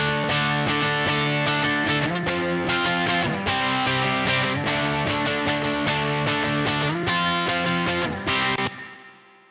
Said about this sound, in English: I'm gonna let you hear this guitar without the reverb send and with.